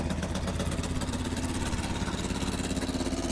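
A racing boat's engine runs steadily with a slightly uneven, chugging idle, running rough, close by and fairly loud throughout.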